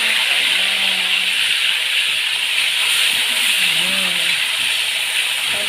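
Chili and garlic dropped into hot oil for Betawi sambal terong balado, a steady loud frying hiss sustained throughout, with a voice talking quietly underneath.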